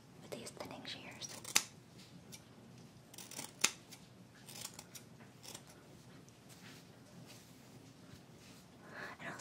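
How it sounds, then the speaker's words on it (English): Thinning shears cutting hair close up in a quiet room: a series of crisp, sharp snips, irregularly spaced and a few standing out louder, over soft rustling and faint whispered talk. "With these thinning shears."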